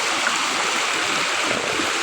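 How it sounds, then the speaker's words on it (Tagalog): River water flowing near the village of Bilison, a continuous broadband rush of moving water heard up close, steady and without any talk. "Tingnan mo yung ilog namin."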